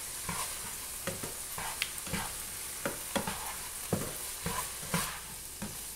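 A spatula scrapes and taps rhythmically through fried rice with onions and sweet peas in a hot pan, over a steady soft sizzle, close and alone.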